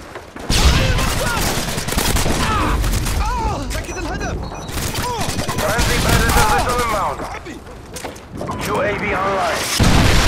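Dense, loud automatic gunfire and bursts of shots from the video game Modern Warfare 2 keep going almost the whole time, broken by short pauses, while someone talks excitedly over it.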